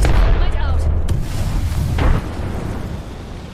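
Combat in the video game Apex Legends, with heavy booming shots and blasts over a deep rumble and a sharp crack near the start, then a thumping report before the sound settles lower.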